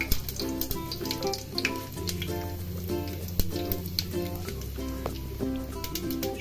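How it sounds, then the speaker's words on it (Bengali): Whole cumin seeds sizzle in hot oil in a pan, a crackling spatter that runs the whole time beneath louder background music with a melody. "আগে গোটা জিরে দিয়ে দেব।"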